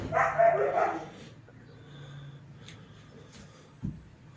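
Guard dog barking in a short burst of several close, loud barks at the start, then a quiet stretch with faint ambient noise and one brief low thump near the end, beside a 1969 Trail Horse GTO 300 mini bike.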